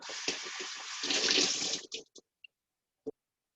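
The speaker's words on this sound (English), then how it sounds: "just gonna rinse it out" Tap water runs loudly and steadily while a bell pepper is rinsed under it, then cuts off into a few sharp drips and small clanks in a quiet kitchen sink.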